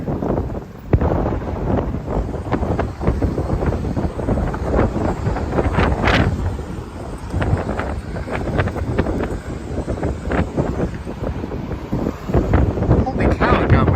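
Strong gusts buffet the microphone outdoors on a Toronto street, a loud continuous rumbling roar with rising and falling surges throughout.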